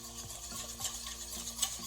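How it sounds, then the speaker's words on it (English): A fork stirs water and Cretan Patoudes, a brandy-like spirit, in a bowl, giving soft repeated clinks and sloshes at a quick, uneven rhythm, close and quiet, with no talk. "I'm just going to use a fork to mix those together"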